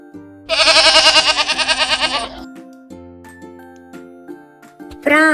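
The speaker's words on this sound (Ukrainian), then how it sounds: "Правильно, це кізочка. Вона каже ме, ме." A goat bleats in a long, loud, wavering call close by, followed by quieter background tones and a brief higher cry at the end.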